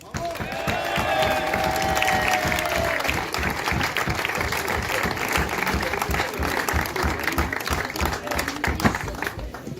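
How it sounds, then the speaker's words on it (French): A crowd applauds steadily at a youth land-sailing championship trophy ceremony, dense clapping that holds loud for about ten seconds, with a voice talking over the start. "On l'applaudit, hein."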